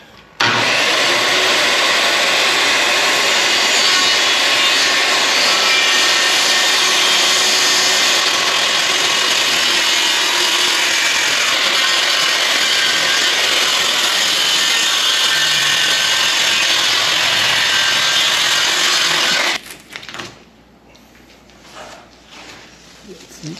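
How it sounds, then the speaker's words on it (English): Skil circular saw ripping through an interior door, a loud continuous high whine lasting nearly twenty seconds, then cutting off abruptly into quiet room noise. "About as clean of a cut as you're going to get with a skill saw"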